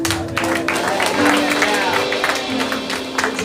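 A church congregation applauds together during a thanksgiving service: a dense, steady wash of clapping with a sustained voice or tone running underneath, close and fairly loud throughout.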